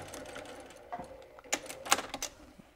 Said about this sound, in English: So I'm backstitching right where the pocket meets the fabric